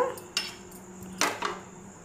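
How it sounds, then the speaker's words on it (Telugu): Masala of cloves, coriander seeds and garlic pounded in a mortar, three or four distinct clanking strikes with short pauses between, close and fairly quiet. "ఈ మసాలాను దంచుకొని తీసుకొస్తా."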